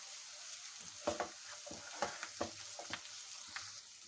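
Steady frying sizzle of onions with garlic-ginger paste, with scattered stirring clatters and scrapes of a spatula in a pan, no talking.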